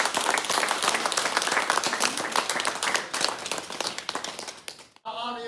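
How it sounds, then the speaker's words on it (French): An audience at the DITIB mosque community in Colmar applauds for several seconds, brisk and close, tapering off before cutting abruptly to a single voice. "je pense qu'il faut les applaudir parce qu'elles sont toutes là"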